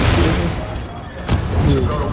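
Loud, dense gunfire from The Division video game during the Hudson Refugee Camp mission, with booming bursts rolling together and a sharp crack near the middle, voices faintly mixed in.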